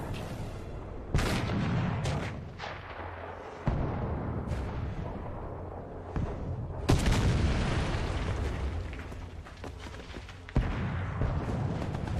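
Tank shells blast and boom in a War Thunder battle, a series of heavy explosions with sharp onsets recurring every couple of seconds over a constant rumbling battlefield din, with no voices.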